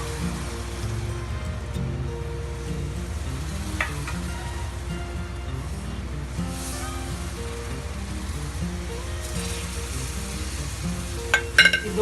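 Sugar syrup ladled a little at a time into hot roasted gram flour for besan halwa, a steady crackling sizzle with occasional sharper spatters near the end, close and continuous.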